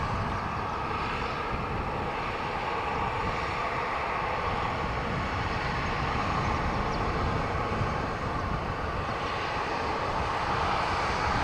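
A Ryanair airliner lined up at Dublin Airport gives off a continuous, broad engine roar that stays loud and steady throughout with no talk.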